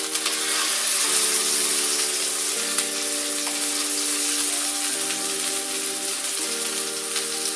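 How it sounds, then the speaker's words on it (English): Beef sears in a hot pan for beef wellington, giving a loud, close, unbroken sizzle that holds steady throughout with no talking over it. "I just want to get a little bit of sear on the end."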